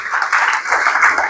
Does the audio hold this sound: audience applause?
yes